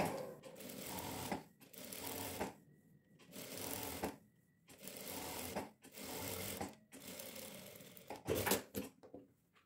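A sewing machine runs in several short bursts while stitching a chemise dress, each stretch of needle chatter broken by brief pauses, close and fairly quiet throughout.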